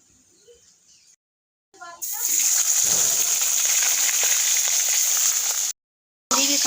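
Rohu fish pieces rubbed with salt and turmeric hit hot oil and fry with a loud, steady sizzle lasting several seconds, after a quieter start.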